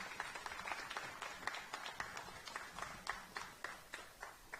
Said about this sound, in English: Give him a round of applause there.